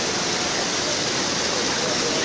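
Water rushes steadily at the basalt prisms of Huasca de Ocampo, Hidalgo, Mexico, a loud, dense, unbroken roar of falling and flowing water close by.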